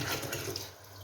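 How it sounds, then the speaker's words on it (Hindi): Water pouring steadily into a cooking pot of mutton trotters (paye) for about five litres' worth, a continuous broad splashing rush close by, fairly quiet, with no talk. "ये 5वां लीटर पानी हम इसमें शामिल कर रहे हैं"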